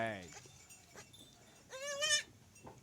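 Newborn twin goat kids and their mother, with a few short bleats and a longer wavering bleat in the middle, fairly close, over quiet background and faint rustling.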